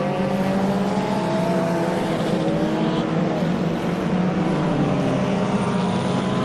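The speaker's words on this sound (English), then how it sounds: "Wouter making his way around turn 3, trying to close down on that People Group Porsche." Race cars, including a Porsche, lap a regional circuit during a 2022 racing festival. Engines drone loud and steady from mid-distance, with pitch rising and falling as cars pass through a turn.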